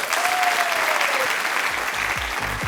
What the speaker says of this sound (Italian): Facciamo un grande applauso per questo ragazzo di Palermo, si chiama Will!